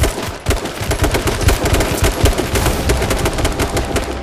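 Rapid, loud gunfire in the video game H1Z1 crackles almost continuously for a few seconds, with dense overlapping shots close by and no talk over them.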